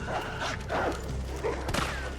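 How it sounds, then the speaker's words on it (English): Dog enemies in the Resident Evil 3 Remake video game barking and snarling in quick bursts, mid-loud, mixed into dense game ambience and effects. "Dog enemies are a nightmare when you have terrible aim."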